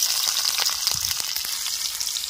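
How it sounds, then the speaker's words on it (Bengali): Onions and green chillies fry in hot oil in a wok for a village-style brinjal, potato and fish curry, giving a bright, constant sizzle dotted with sharp crackles and pops, close and unvoiced. "কড়াইয়ের মধ্যে তেল দিয়ে দেব। তেলের মধ্যে দিয়ে দেব পেঁয়াজ আর কাঁচা লঙ্কা।"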